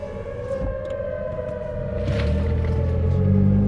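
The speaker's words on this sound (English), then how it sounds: "listen to that tornado siren." Tornado warning siren wailing outdoors in Oklahoma under a stormy sky, a steady drawn-out tone with low rumbling noise building underneath, no talking.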